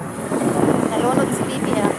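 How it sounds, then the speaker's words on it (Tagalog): Strong wind buffeting the microphone outdoors by the water, a loud rumbling roar that rises and falls in gusts for a couple of seconds. "Masyado malakas ang hangin."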